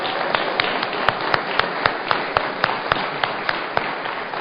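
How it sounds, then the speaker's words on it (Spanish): A church congregation claps for the Lord in a steady, even rhythm, roughly two claps per second, a sustained crowd of hands heard from a moderate distance with no talking. "¿Merece un aplauso el Señor?"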